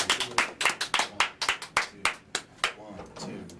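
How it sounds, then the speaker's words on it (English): Audience clapping at a live music show, a burst of distinct loud hand claps in an uneven rhythm that thins out toward the end as music begins. "Give them a round of applause."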